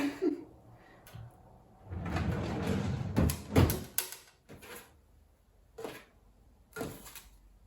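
A living-room drawer slides open with a rumbling glide and a few wooden knocks and clunks, followed by scattered rustles and taps from its contents, fairly close.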